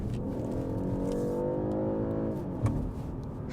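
A BMW 530e plug-in hybrid's gas engine revs as the car accelerates out of a corner, with a steady rising engine tone heard from inside the cabin that eases off near the end.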